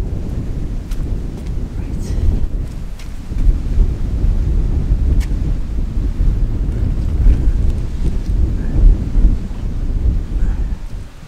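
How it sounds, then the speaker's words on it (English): Heavy wind buffets the microphone in loud, rumbling gusts beside an off-grid wind turbine being built, a constant low roar with bumps and crackles throughout. "I'm having a bit of a hard time filming today because it's so windy"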